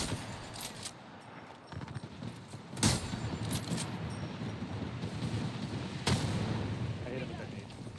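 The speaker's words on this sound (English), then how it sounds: "I hit him with that nade" Gunfire and a grenade blast in an online shooter game, sharp cracking shots and two heavy bursts about three seconds apart, under a continuous mix of game noise and a voice talking.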